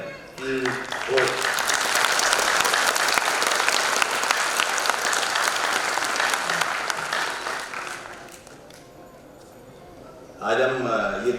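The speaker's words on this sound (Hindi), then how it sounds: "एक बार तालियां हो जाए" A crowd at a 75th Corps Day diamond jubilee celebration bursts into loud, steady clapping that swells for several seconds and then fades. Brief speech is heard just before the applause and again as it ends.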